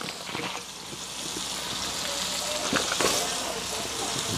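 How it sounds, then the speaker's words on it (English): Potatoes dropped into water boiling in a pot over an outdoor fire, giving a steady bubbling, sizzling hiss with a few small splashes, heard up close. "Potato go in, my people"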